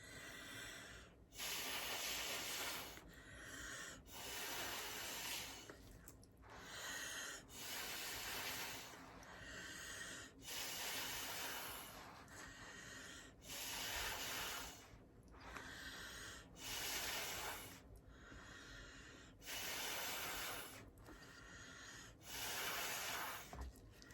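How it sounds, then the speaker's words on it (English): Breathy bursts of air blown through a straw onto wet paint mixed with cell activator, repeated roughly every two seconds in a steady rhythm, close and fairly loud with no talking. "So I'm going to take my handy dandy straw and start blowing."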